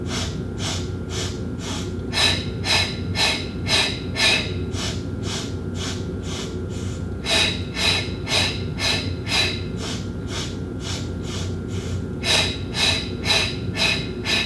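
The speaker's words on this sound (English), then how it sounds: "Take an inhale, sniff, sniff, sniff, sniff, sniff, and blow, blow, blow, blow, blow." Pilates breathing exercise: a rhythmic series of sharp nasal sniff inhales followed by forceful blowing exhales, repeated in sets of about five, close and clear over a low steady background hum.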